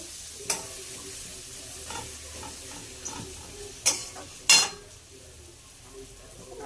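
Curry sautéing in hot oil in a home kitchen pan, a low steady sizzle broken by a few scraping stirs and sharp metallic clinks of the spoon against the pan, with no talking.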